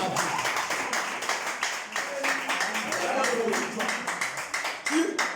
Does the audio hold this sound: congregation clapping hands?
yes